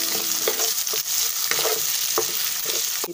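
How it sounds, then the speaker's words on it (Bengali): Mung dal frying in a pan for a Bengali prawn and bottle gourd dish, giving a steady close sizzle with repeated scraping stirs of a spatula about every half second. "এবার মুগ ডালটা একটু ভালো করে ভেজে নিতে হবে।"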